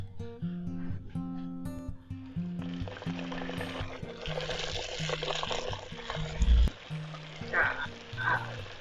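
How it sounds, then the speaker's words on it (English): Steady crackling sizzle of bake dough frying in hot oil, with a low hum and some faint background music running underneath. "when that happens, you know it's time to start frying."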